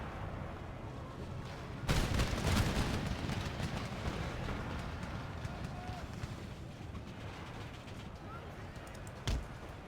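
Heavy mortar bombardment rumbles across a Empire Total War battlefield with pirate forces, a deep booming burst followed by a sustained roar and a later sharp impact, with someone talking over it.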